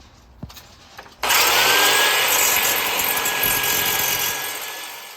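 A power tool cuts a ClosetMaid metal shelf track to size with a sudden loud, sustained whine that starts after a few soft knocks, then slowly fades toward the end.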